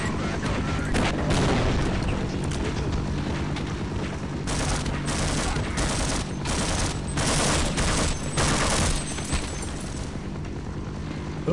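Gunfire in the shooter game Half-Life 1, dense and continuous with loud bursts and booming hits throughout, over a constant rumbling background.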